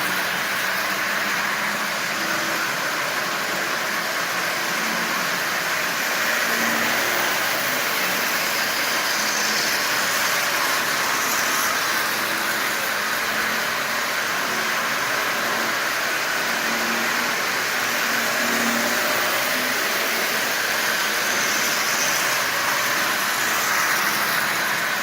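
A Marx Commodore Vanderbilt toy train with a 490 motor, pulling 18 Marx cars at 55% power, runs with a steady continuous mechanical whir and hum, unchanging over a long stretch with no talking.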